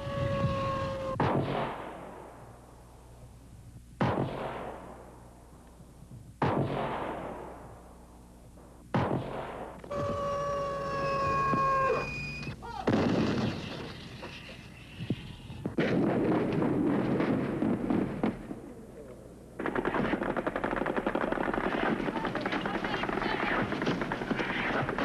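Incoming artillery at the Khe Sanh combat base during the 1968 siege, heard as a run of loud, sharp blasts with decaying tails, several spaced seconds apart, followed by sustained heavy rumbling bursts, with no speech.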